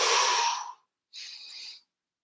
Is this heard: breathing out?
yes